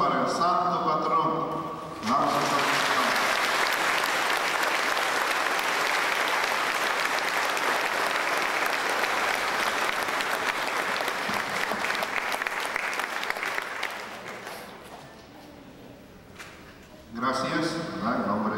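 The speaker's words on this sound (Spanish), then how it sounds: "Y hoy es un aplauso para el santo patrón." Sustained crowd applause in honour of the patron saint at a village fiesta, dense and steady clapping that fades out near the end before voices return, with speech heard at the start and close.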